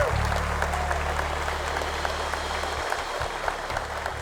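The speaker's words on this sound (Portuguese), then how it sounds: "Vamos aplaudir a Deus pela vida dele?" Church congregation applauding at a Brazilian thanksgiving service, a steady dense wash of clapping with a low organ or keyboard drone beneath that cuts out near the end.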